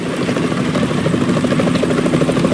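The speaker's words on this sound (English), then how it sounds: "Is that a chopper I just heard?" A helicopter in the video game Metal Gear Solid 2, its rotor thumping steadily with a dense engine drone, loud and constant throughout, no voices.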